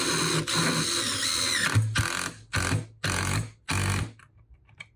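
A cordless impact driver whirs in one long run followed by three short bursts with brief gaps, close and loud, then stops.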